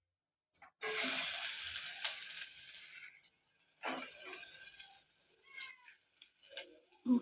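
Ginger and garlic hit a hot pan for a mushroom soup and sizzle in bursts, a bright hissing that flares and subsides. Brief voices and clinks appear between them.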